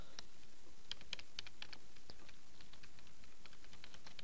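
Typing on a new computer keyboard during Minecraft play, rapid light key taps pattering quietly over a steady background hiss, with no talking.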